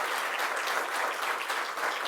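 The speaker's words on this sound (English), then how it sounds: "Let's give them both a round of applause" Steady, dense applause from an audience at a public event on affordable housing, a continuous crowd clapping with no talk over it.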